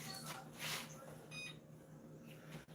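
An oven timer beeps during a breadstick bake, a short run of bright electronic tones standing out over a steady room hum at moderate level.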